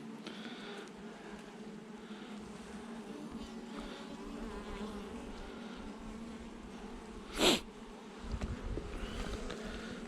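A honeybee colony swarms out of its hive, giving a steady close buzzing drone throughout, with one brief louder insect pass near the middle.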